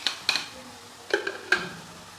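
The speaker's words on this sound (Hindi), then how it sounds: "बस 1-2 मिनट के लिए मैंने इनको बस भूनना है थोड़ा सा।" Bread pieces being roasted in a pan, giving a few soft scraping, tapping stirs and faint crackles spaced out over a quiet background.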